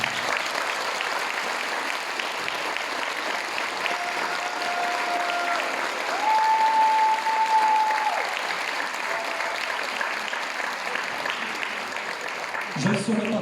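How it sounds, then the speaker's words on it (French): Applause from a concert audience in Watten, a dense, steady clapping wash lasting over ten seconds, with a faint sung or whistled tone drifting through the middle and a brief voice near the end. "Je vous demande de faire une salve d'applaudissements pour Michel."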